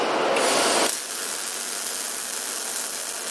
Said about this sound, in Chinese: 现在咱们实际焊一道看一下